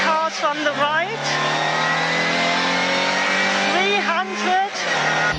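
A classic Mini rally car engine drives hard on a tarmac rally stage at the Goodwood South Downs Stages, droning loudly and continuously from inside the car with revs rising and falling at gear changes; a co-driver calls pace notes over the engine.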